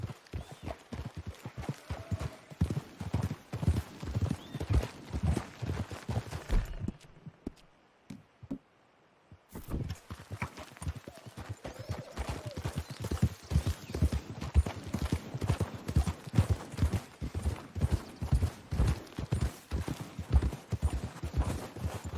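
Horses' hooves clip-clop steadily in the video game Red Dead Redemption II, a close, rhythmic run of hoofbeats that stops briefly and then resumes.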